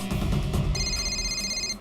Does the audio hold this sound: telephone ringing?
yes